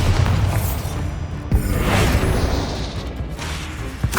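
Booming Bombarda explosion spells in Hogwarts Legacy on PS5: several heavy blasts and crashing bursts with whooshing debris, loud and close over a busy combat backdrop.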